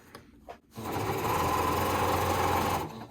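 A sewing machine stitches the seam of a fabric bag for about two seconds, a steady close mechanical whirr with no talk over it, starting after a moment of quiet handling.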